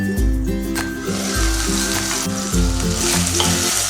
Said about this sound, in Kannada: ಟೊಮೆಟೊ ಹಾಕ್ಕೊಂಡು 1 ನಿಮಿಷ ಫ್ರೈ ಮಾಡಿ